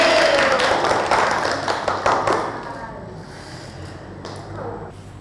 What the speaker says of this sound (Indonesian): Oke, beri tepuk tangan buat kita semua.